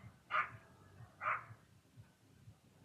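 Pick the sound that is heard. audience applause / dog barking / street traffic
dog barking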